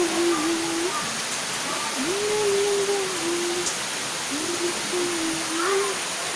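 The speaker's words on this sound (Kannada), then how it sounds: "ನೋಡಿ ಫುಲ್ ಮಳೆ ಅಂದರೆ ಫುಲ್ ಮಳೆ" Heavy rain falls as a steady, loud wash of hiss, with a voice drawing out sustained tones over it.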